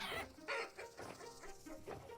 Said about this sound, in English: gotta check on the chickens